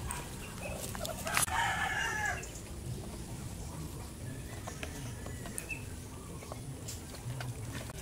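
Chickens on a provincial farm cluck softly at a distance, and a rooster crows once briefly, over steady low outdoor ambience with no voices.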